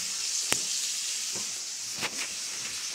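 Bacon fries in a pan with a steady bright sizzle and hiss that continues throughout, broken by a couple of sharp pops and crackles.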